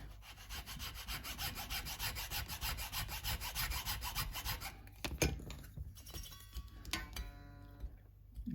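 Filing the nut slots on a Squier Affinity Stratocaster, a steady rhythmic rasp of strokes for about five seconds, then a few scattered scrapes and taps, close and alone.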